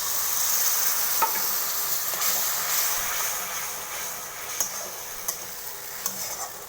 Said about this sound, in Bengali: টমেটোও ভাজা হয়ে গেছে, এখন এই মশলা ধোয়া জলটা দিয়ে দেবো